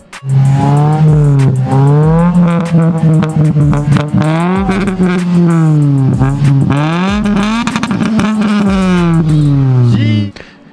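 A 7th-generation Toyota Celica GT engine revs loudly and continuously, rising and falling through several throttle blips with a raspy, throaty exhaust note, close up.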